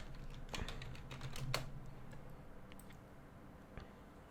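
Computer keyboard typing, a short run of quick, faint clicks followed by a couple of isolated keystrokes, close and quiet with no talking.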